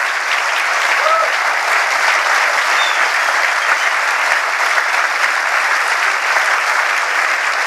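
An audience at a renewable energy fair keynote applauds a speech, a dense, steady wash of clapping from a large crowd that continues unbroken throughout.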